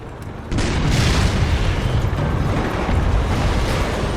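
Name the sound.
self-propelled gun exploding in a video game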